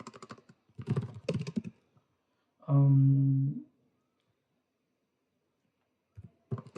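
Someone types C code on a computer keyboard: a short cluster of keystrokes, a brief steady tonal hum, then a few more quiet clicks near the end of an otherwise silent stretch.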